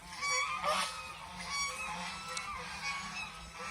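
A flock of geese on a commercial goose farm honks continuously, with overlapping nasal calls close by and no voices.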